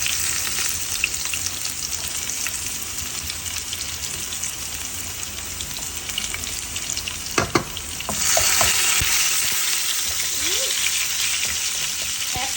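Garlic and dried red chillies fry in hot oil for a winter vegetable dish, giving a steady close sizzle throughout with a few sharp crackles and a brief stir near the middle, and a louder burst of spitting later on.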